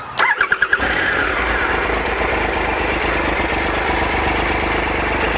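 A three-cylinder adventure motorcycle that has been standing unused is started: a few quick cranking pulses, then the engine catches and settles into a steady, raspy idle, close and loud, with no talk.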